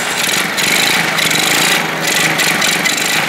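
A Pagsta 50cc motorbike with electric start, slightly out of tune and carbureted, runs steadily nearby with a loud, buzzy small-engine drone and slight rhythmic fluctuations.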